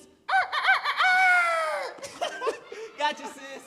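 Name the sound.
rooster crowing and chickens clucking, stage sound effect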